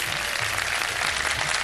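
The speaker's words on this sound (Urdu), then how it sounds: "لیکن تالیوں سے ہوگا آغاز" Studio audience applause on a live Ramadan iftar television show, a steady dense wash of clapping filling the whole moment with no voices over it.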